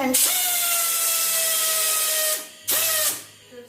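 An XQD-19/25 portable pneumatic strapping machine tensions straps with a loud, steady, high-pitched whine for about two seconds. It drops away briefly, then gives a second short burst before stopping. No one speaks over it.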